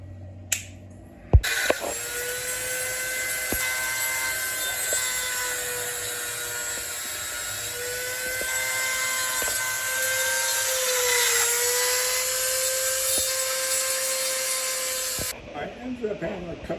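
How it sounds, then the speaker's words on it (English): Grinding down the shoulder of a metal door lock part for a 1973 Mach 1 makes a loud, sustained whine that holds steady pitch for over ten seconds, with small shifts as pressure changes. Short bumps mark the start and the finish. "I can grind down the low shoulder on this one piece here"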